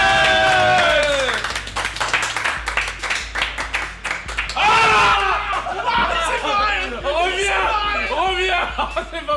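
Audience applause at a talk by a games author, with scattered clapping mixed into laughter, cheering and lively chatter from the crowd, rising again midway as more people join in.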